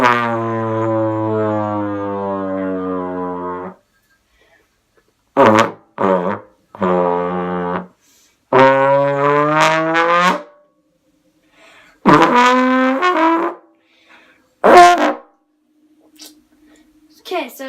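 A trombone imitates an airplane: a long sustained brassy tone, then a series of short blasts and swelling notes separated by pauses.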